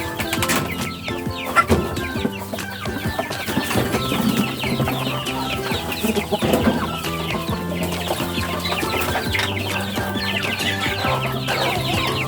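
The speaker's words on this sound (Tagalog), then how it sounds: "Tara, ating pakainin na ang ating mga alagang manok." Native chickens cluck busily and continuously nearby while being fed, several birds at once, with occasional louder squawks throughout.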